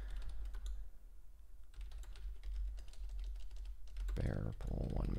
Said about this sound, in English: I'm really not good at typing and talking at the same time.